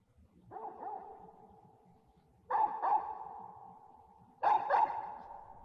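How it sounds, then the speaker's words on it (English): Dog barking in the Final Fantasy 16 video game: three short bursts of barks spaced about two seconds apart, fairly close and clear over a quiet background, with no talk. "I know you're hearing a dog"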